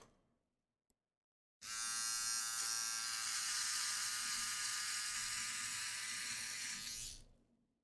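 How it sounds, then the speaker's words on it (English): An electric shaver trims a man's beard, a loud steady buzzing that starts abruptly after a moment of near silence and runs for several seconds before cutting off. "I'm shaving that bitch."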